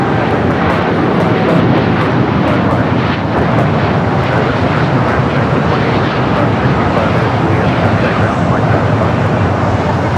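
A Boeing 787 Dreamliner takes off at LAX with an early rotation, its engines a loud, steady broadband roar that holds throughout, close and dominant with no pause.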